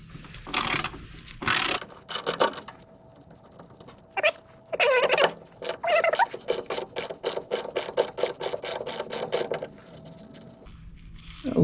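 A ratchet wrench loosens 7/16 inch nuts in a car engine bay during an engine strip, ticking in several quick clicking runs, close and crisp, with brief handling noises between bursts.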